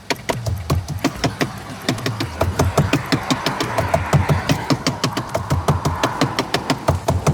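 Engine of a 2023 Fiat 500 revving, a steady rhythmic chugging pulse close by that holds an even beat throughout, with no talk.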